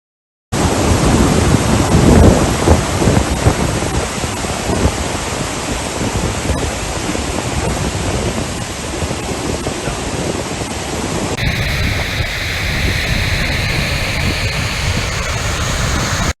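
Kamareddy's large lake overflows through its spillway after a night of heavy rain, making a loud, unbroken rushing roar that shifts slightly in tone partway through, with no voices.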